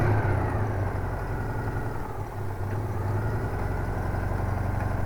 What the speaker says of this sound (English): the engine starts, so everything is okay